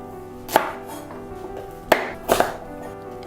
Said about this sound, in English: We just have to peel the carrots, trim the edges,